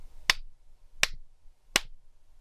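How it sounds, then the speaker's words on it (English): Three sharp, evenly spaced hand claps ring out about three quarters of a second apart, each crisp and isolated in an otherwise quiet room. "you'll do that by clapping 3 times like this"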